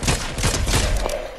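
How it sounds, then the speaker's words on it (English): Rapid bursts of gunfire in the video game Fortnite, several overlapping shots in quick succession at moderate distance, heard alone without talk. "They're shooting down here somewhere."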